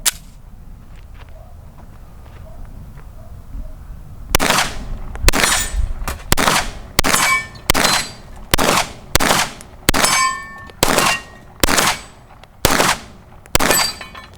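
Sig Sauer P320 M17 pistol with a red dot sight fired at targets outdoors: about a dozen sharp, loud shots in a steady, evenly spaced string after a few quiet seconds.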